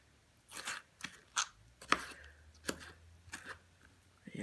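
Hand chopping of food for meatloaf on a cutting board, a series of sharp, separate crunchy knife strikes at an uneven pace, close and crisp over a quiet background.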